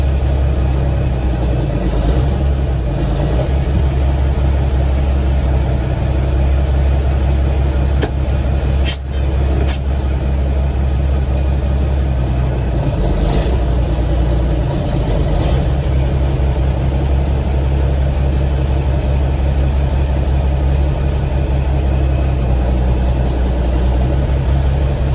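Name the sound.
truck engine running while moving a truck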